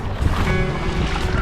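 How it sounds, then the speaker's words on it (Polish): Strong headwind and choppy waves roll past a kayak in the strait off Orebić, Croatia, a steady close wind roar buffeting the microphone with continuous water wash throughout, no talking. "Dość mocny wiatr prosto w twarz."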